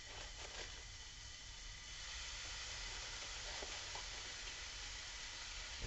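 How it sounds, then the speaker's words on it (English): Bacon-wrapped brats sear in a hot pan, giving off a continuous, even sizzle and hiss at low volume, with no voices. "is start searing my brats"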